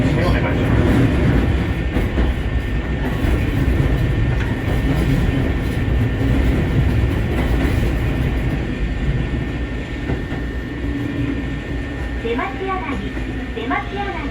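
An Eizan Electric Railway train runs through Shugakuin Station with a loud, steady rumble of wheels and carriages that eases slightly toward the end, and faint clicks and chimes near the close.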